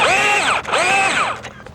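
A power drill whines loudly and steadily, its pitch sweeping up and down as it drills out a rivet head on a boat's rub rail, then winds down near the end.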